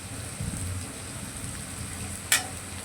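Onion, garlic and green chilli frying in a pan while being stirred, a steady low sizzle with soft scraping movements and one sharp clink near the end.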